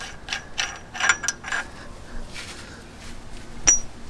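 A ratchet removes the main bearing nut on a vehicle swivel hub being rebuilt, giving close, irregular clicking strokes with a metallic clink near the end.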